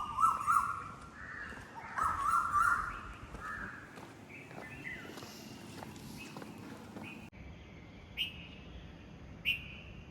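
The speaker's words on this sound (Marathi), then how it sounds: "कावळ्याला साथ देते काय कोकिळा" Outdoor birdsong: a crow cawing in short bursts near the start, with a koel and other bird calls and faint footsteps in the background.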